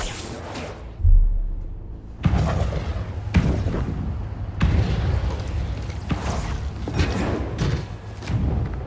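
A series of deep booms and thuds from fireworks in the video game Marvel's Spider-Man 2, bursting at irregular intervals, loud and echoing, going off in quick succession.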